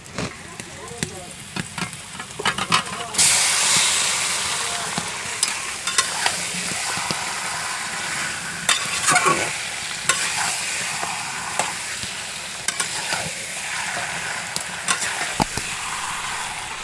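Chicken pieces sizzle and fry with browned onions in a pot, with steady close crackling and stirring scrapes throughout, loudest just after the meat goes in.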